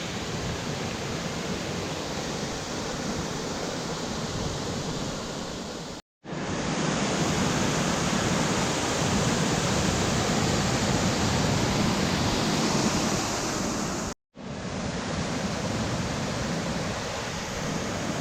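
Janet's Foss waterfall roars as a steady, loud broadband rush of falling water, close by and unbroken apart from two brief dropouts.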